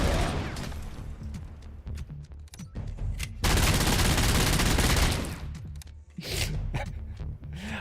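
Futuristic weapon fire and explosions in the RoboCop: Rogue City Unfinished Business DLC on PC: dense bursts of rapid gunfire and a long roaring blast, loud and close, with brief gaps between salvos and no talking.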